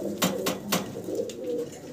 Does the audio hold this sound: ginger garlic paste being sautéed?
no